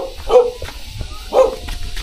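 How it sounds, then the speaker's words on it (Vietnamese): A dog at a rural home in a rocky mountain area gives two short barks about a second apart, moderately close, with background noise between. "Con chó đấy"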